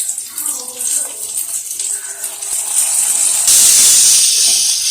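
Green chilli and ginger garlic paste frying in a pan, a steady hiss and sizzle that swells louder partway through, close and continuous.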